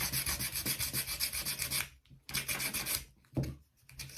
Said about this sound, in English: And so this is a 180 grit bit of sandpaper.